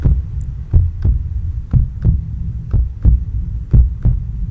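Heartbeat sound effect: deep, thudding low pulses repeat at a steady pace, about eight beats over a few seconds, loud and alone with a soft hum between them.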